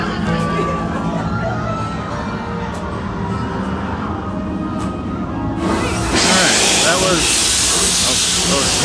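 Theme park train at Busch Gardens Williamsburg lets off a loud, sudden burst of hissing steam that persists, following crowd chatter and voices nearby.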